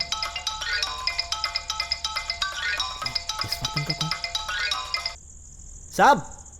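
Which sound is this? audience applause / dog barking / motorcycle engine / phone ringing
phone ringing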